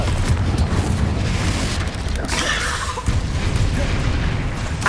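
Loud, dense fire-spell blasts in the Hogwarts Legacy video game, with booming bursts and crackling roar filling the whole stretch, a sharper eruption near the middle, and no letup between hits.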